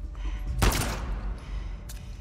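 Gunfire in the video game The Last of Us Part 2: one loud, close shot cracks out and rolls away, and a fainter second report follows about a second later over low ambient noise.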